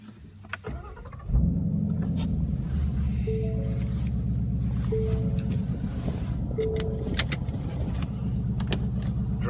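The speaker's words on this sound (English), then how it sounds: "This is basically a cold startup." A 2015-18 Ford Mustang with a Corsa exhaust fires up from cold after a brief starter crank, settling into a loud, steady, throaty idle with a deep burble that continues for several seconds, and no one speaking.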